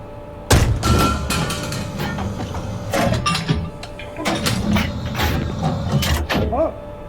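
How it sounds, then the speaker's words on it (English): M1 tank in the video game GHPC firing its main gun, followed by the spent shell ejecting and clanking into the basket; a sharp heavy blast then metallic clunks and rattles over a steady interior engine rumble. "what you're hearing there is it firing, the shell ejecting, and landing in the basket"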